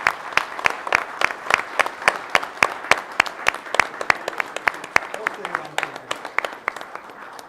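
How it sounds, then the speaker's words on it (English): A meeting room applauds a retiring colleague with steady, rhythmic clapping from a small group, fairly close and continuing for several seconds, with a voice talking faintly underneath. "applaud him, okay?"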